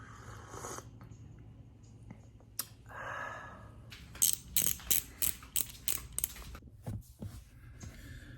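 A small wrench ratchets on the seat riser bolts of a Toyota Tacoma, giving a run of quick, sharp clicking bursts that turn louder and more regular toward the middle, close by with no talk.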